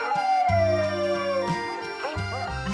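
A dog howls in a long, wavering, sliding tone that stays loud and close throughout, with a tonal background underneath.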